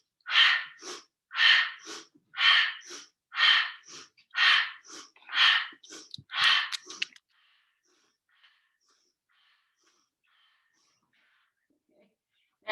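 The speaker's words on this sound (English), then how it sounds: "So I'm just gonna add that crazy breathing." Rapid, forceful yoga breathing exercise: about nine loud, rhythmic breath bursts roughly every second, close and clear, then stopping abruptly and fading into near silence.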